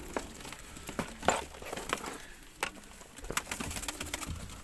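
Pigeons outdoors, with soft coos and sporadic sharp clicks and flutters scattered over a faint ambient background.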